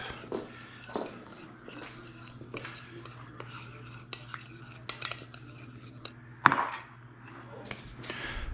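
A utensil scrapes and clinks against a bowl while toasted sesame seeds are mixed in, with soft irregular stirring taps and a few sharper knocks close by, faint background hum and no talking.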